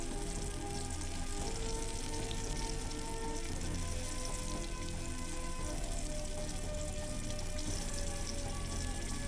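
Food sautéing in the video game Iron Chef Wii gives a dense, continuous crackling sizzle of hot oil. It stays loud and even throughout, with a faint steady tone underneath and no talk.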